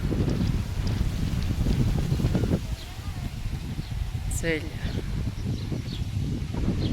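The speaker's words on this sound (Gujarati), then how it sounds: "જાણે વાવાઝોડું ન હોય એવો પવન અત્યારે શરૂ થઈ ગયો છે" Strong gusty wind buffets an outdoor village setting in the evening, roaring against the microphone in heavy rumbling waves that ease slightly midway, with a faint bird call near the end.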